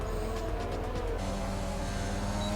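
F1 race cars in an F1 video game at the Australian round brake hard and jostle for position, a loud continuous engine whine shifting pitch downward under braking with a steady low drone throughout.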